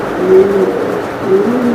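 A male racing pigeon, a 2024 BRPFC bird, coos loudly and close by, giving two soft throaty coos within a couple of seconds.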